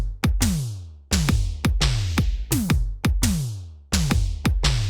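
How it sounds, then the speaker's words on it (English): Punchy old-school Simmons-style electronic toms, four different pitches with sharply falling pitch, hit in quick descending runs over a deep kick drum, repeating in a tight synthwave pattern. "we actually have 4 different pitched toms here"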